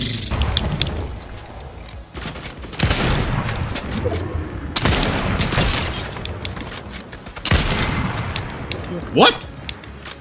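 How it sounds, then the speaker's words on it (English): Submachine gun fire in Fortnite, coming in rapid bursts separated by pauses, loud and close, with a player talking over the shooting. "This is SMG."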